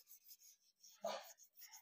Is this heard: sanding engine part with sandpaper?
yes